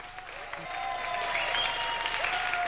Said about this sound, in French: Vous pouvez applaudir notre invité que j'ai le plaisir d'accueillir.